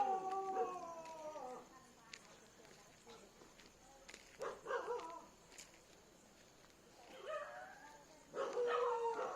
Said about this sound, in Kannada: ನಾಯಿ ಒದ್ರಾಕುಂತಾವ